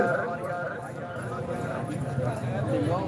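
Horses galloping at a tent pegging (neza bazi) event in Gujrat, a continuous muffled clatter of hooves under loud commentary over a public address system and crowd noise.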